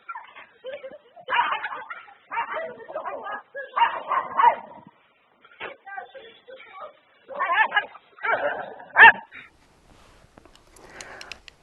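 Dog barks and yips come in short irregular bursts with pauses, moderately close, in footage also featuring a rooster; other faint sounds fill the gaps.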